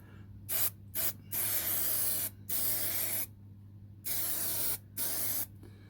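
Six bursts of spray adhesive hiss from an aerosol can, some short puffs and some held for about a second, separated by brief pauses over a low background hum.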